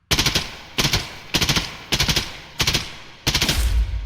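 Automatic weapon bursts in the shooter Contractors Showdown ExfilZone, fired at a target's chest armor: six short loud bursts of several rapid shots each, spaced by brief pauses.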